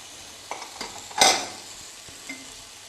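Vegetables for pasta are stirred in a pan, giving a brief scrape and clatter of the spoon with a faint sizzle beneath, close and short.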